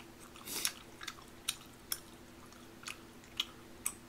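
Close, quiet chewing of wheat-flour tteokbokki rice cakes, soft wet squishes and smacks recurring every half second or so in a hushed room.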